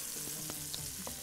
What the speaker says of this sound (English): Mix it. Make sure you don't burn the onions.